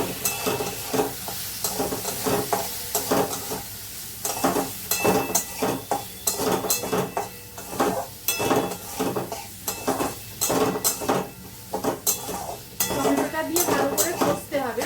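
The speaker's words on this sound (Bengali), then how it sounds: "মশলাটাকে আমি কষাবো" Masala spices with ground cumin are stirred in oil in a pan, giving a continuous sizzle broken by repeated scraping strokes and clinks of a spoon against the pan, close and steady with no talk.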